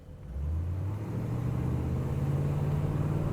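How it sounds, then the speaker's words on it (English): A 1971 Pontiac Grand Ville's V8 with a Turbo Hydramatic 400 gearbox pulls away, a deep rumble swelling in the first half-second and then climbing smoothly and steadily in pitch as the car accelerates, close and loud, no talk. "Let's just accelerate one more time so you can hear the wonderful Pontiac V8"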